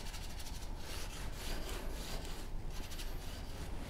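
A scraper drags back wet oil paint across a canvas, a continuous close rasping rub with rhythmic strokes and no voices.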